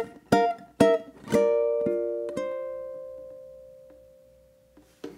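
A ukulele is fingerpicked in a short melodic phrase: a few bright plucked notes and chords, then one note left ringing and slowly fading, and a final soft pluck at the end, quiet and close.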